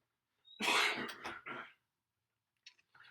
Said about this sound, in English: I still got a bit of a cough